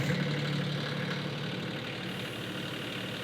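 Kioti CS2220 HST 4WD compact tractor engine idling just after starting, a steady, close, rhythmic low diesel chug with no talking.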